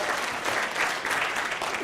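An audience applauds for a guest at a Brian Rohr event, a steady, dense wash of clapping sustained throughout at moderate level with no speech over it.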